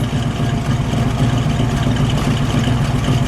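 A 1966 Sunbeam Tiger Mark I with its 260 cubic inch V8 idles steadily, giving a close, even, low rumbling drone that holds without any revving.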